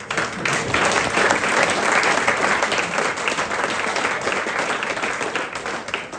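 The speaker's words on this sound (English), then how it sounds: "So I think a big round of applause." Sustained round of applause from an audience at a cricket club awards dinner, dense steady clapping that holds loud and even throughout without a break.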